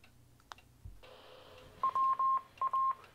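A handheld radio transmitting on channel 16 sends a short burst of DTMF-style tone beeps after a click and faint hum, several quick tones in an uneven rhythm, clear and close.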